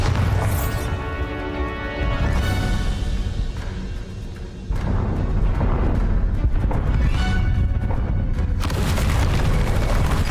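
A Bombarda spell explodes in Hogwarts Legacy, heard as loud booming blasts and crashes amid dense game music and effects, with a brief dip before another heavy burst.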